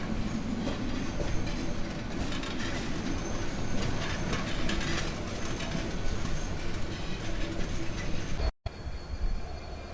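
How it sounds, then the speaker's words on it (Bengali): Kurigram Express passenger train rolling along the rails after leaving a station stop, a steady loud rumble and clatter of wheels heard from inside a carriage, with a brief dropout near the end. "ট্রেনের গতি কিন্তু আস্তে আস্তে বাড়তেছে।"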